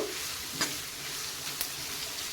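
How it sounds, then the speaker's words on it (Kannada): Green beans fry in a hot pan for fried rice, giving a steady, close sizzle broken by two brief stirring scrapes. "ಈಗ ಬೀನ್ಸ್ ಹಾಕ್ತಾ ಇದ್ದೀನಿ ನೋಡಿ ಹುರುಳಿಕಾಯಿ ನೋಡಿ ಇದು ಚೆನ್ನಾಗಿ ಫ್ರೈ ಆಗಬೇಕು"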